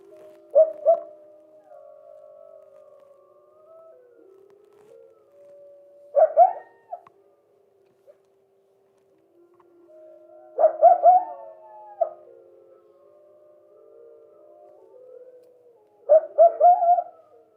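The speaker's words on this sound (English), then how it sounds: "I like to highlight what it might sound like between the difference of howling of wolves and coyotes." Wolf and coyote howls in Yellowstone, heard as four separate bursts of wavering, tonal cries spaced several seconds apart, with quiet stretches between them and no talk.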